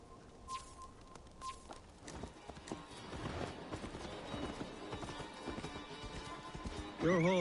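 Horse hooves clip-clopping steadily alongside a neighing horse in the video game Assassin's Creed Valhalla, heard over a busy game soundscape with voices in the background and a louder burst near the end.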